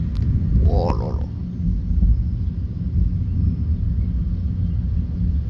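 A violent thunderstorm in Bordeaux brings a loud, deep rumble of thunder that rolls on continuously, with a brief higher sound rising over it early on.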